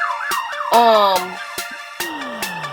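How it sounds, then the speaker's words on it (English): A loud police siren wails and yelps, its pitch sweeping up and down, with sharp clicks cutting through. "excuse this police siren"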